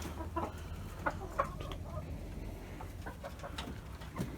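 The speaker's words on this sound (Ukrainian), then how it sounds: "Кури зерно порозкидали." Several hens cluck and murmur in short, scattered bursts over a low background hum, fairly quiet and close by, with no talking.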